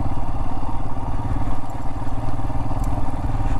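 A motorcycle engine chugs at low revs on a rough canyon jeep trail, a close, steady, throbbing rumble with loose clatter and no talk.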